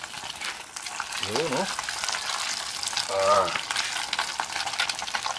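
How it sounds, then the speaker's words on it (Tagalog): Food sizzles and crackles steadily in a hot frying pan as it fries to a crispy golden brown, loud and continuous, with brief spoken exclamations over it. "Tama-tama pa prito natin."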